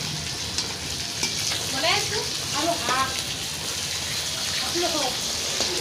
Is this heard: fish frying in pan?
yes